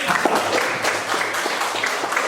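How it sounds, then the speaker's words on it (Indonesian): An audience of participants at an academic teaching workshop claps together, a loud, dense and steady burst of applause lasting a couple of seconds, close and continuous. "Boleh tepuk tangan teman-teman?"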